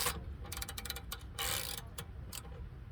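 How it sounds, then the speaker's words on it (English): A flex head ratchet on a rear brake bolt of a 2010 to 2016 Nissan Altima S 2.5L, heard as faint, rapid clicking in short bursts over a steady background hiss, with no talking. "if you have a flex head ratchet, like this one here"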